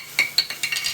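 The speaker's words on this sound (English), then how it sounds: "I like to whisk it every so often." Whisk clinking against a pot of milk: about half a dozen quick, bright metallic taps and scrapes in an uneven rhythm, close and fairly clear, with no talk.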